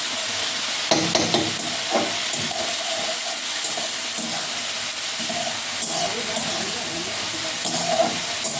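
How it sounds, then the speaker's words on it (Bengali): Betu saag leafy greens cook uncovered in a pan while being slowly stirred, giving a continuous close steamy sizzle broken by occasional soft scrapes and shuffles of the spoon. "আমি আস্তে আস্তে নেড়ে চেড়ে শাকটা রান্না করছি"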